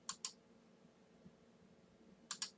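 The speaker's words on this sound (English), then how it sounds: "I can also tap F5 on the keyboard" Two pairs of crisp, quiet key taps on a computer keyboard, such as pressing the F5 key, sound close by in a near-silent room with a long pause between them.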